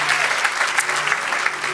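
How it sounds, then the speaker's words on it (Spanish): A church congregation gives steady applause to the Lord during a worship service, a continuous roomful of clapping heard up close, with a faint sustained tone beneath it. "Den un aplauso al Señor."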